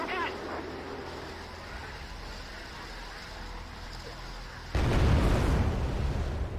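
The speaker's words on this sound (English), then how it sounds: "Bringing in a J5 napalm bomber now" Napalm bomber strikes on buildings in Wargame: Red Dragon, with a steady rumble of battle noise and a sudden loud roaring burst of fire partway through that stays heavy to the end.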